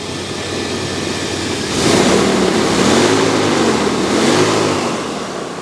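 A Chevrolet LQ9 6.0-liter V8 in an old-body-style truck, fitted with a new exhaust, is blipped from idle. The engine note rises and falls in a couple of strong revving swells before settling back to a steady idle, with no speech.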